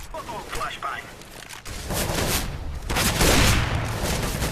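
Gunfire and explosive bursts in the video game CS:GO, dense rattling shots with heavy booms building in loudness, a grenade-like blast near the middle and a louder burst toward the end.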